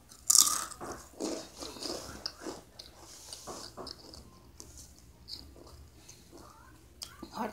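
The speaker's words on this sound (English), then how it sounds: "Hot Takis got that crunch." Hot Takis rolled tortilla chips crunched between the teeth close to the mic, a string of sharp bites followed by irregular chewing crunches with soft breaths between, no talking.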